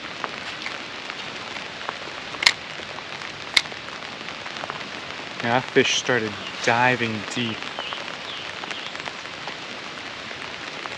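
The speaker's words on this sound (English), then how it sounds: "Well, it is raining now." Rain patters steadily across the water and surroundings during a fishing outing, with a few sharp drops and clicks, while someone talks partway through.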